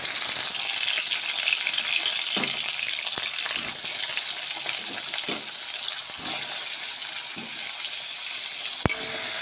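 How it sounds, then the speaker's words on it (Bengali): Chopped tomatoes drop into hot oil seasoned with five-spice (panch phoron) for a Bengali tomato chutney, giving a loud, steady sizzle with scattered soft clinks and stirring sounds, close and continuous, without talk. "পাঁচফোড়ন দেওয়ার পর আমি কুচি করে রাখা টমেটোগুলো এই তেলের মধ্যে ছেড়ে দিচ্ছি।"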